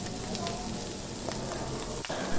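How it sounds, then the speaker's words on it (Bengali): Vegetables stir-frying with Maggi masala in a pan for fried rice made from leftover rice, a steady dense sizzle throughout with a faint scrape of stirring near the end. "এই ম্যাগি মশলাটা দিয়ে সবগুলো উপাদান একসঙ্গে মিশিয়ে নিচ্ছি"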